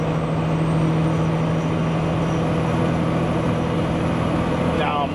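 A truck with a new 18-speed transmission drones loudly and steadily from inside the cab, the engine note holding constant with a brief shift-like change near the end.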